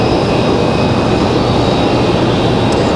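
An Endeavor Air regional jet arriving at Raleigh-Durham International Airport, heard as a loud, steady broadband jet engine roar that holds constant throughout, with no voices.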